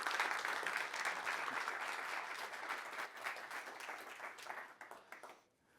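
An audience at a conference breakout session applauds presenters being welcomed, a steady wash of clapping that gradually thins and fades to quiet.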